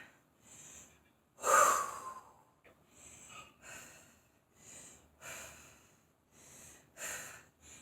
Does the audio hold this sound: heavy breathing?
yes